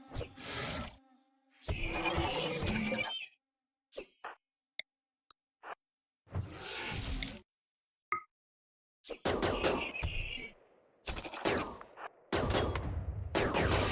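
Sporadic gunfire in RimWorld, a few sharp isolated shots and short clattering bursts separated by silence, with occasional talk.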